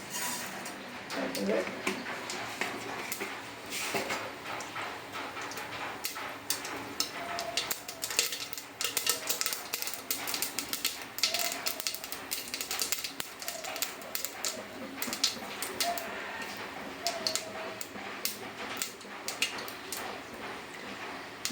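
Mustard seeds spluttering in hot coconut oil, a close, dense crackle of sharp pops and ticks that runs continuously without letting up.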